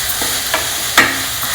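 A spoon stirs spices, ginger and Kashmiri chili powder through moong sprouts khichdi in a pot, giving a soft sizzle with a few distinct scraping strokes against the pan, and no one talking.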